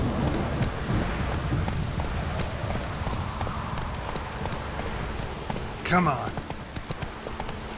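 Hooves of the horse Roach clip-clopping through a rainy outdoor scene in The Witcher 3, a steady trotting rhythm under rain and distant thunder, with someone briefly speaking and a sharp creature cry near the end.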